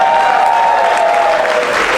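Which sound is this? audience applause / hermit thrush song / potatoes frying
audience applause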